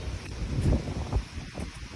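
Gusty wind buffets the microphone with low rumbling bursts that swell and fade, with a faint rustling hiss behind.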